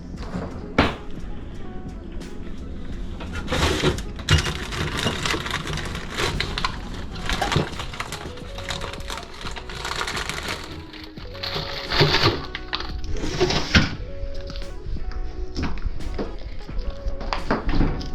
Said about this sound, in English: He actually knows the sound of the drawer in the fridge.